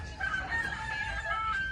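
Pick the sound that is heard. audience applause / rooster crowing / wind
rooster crowing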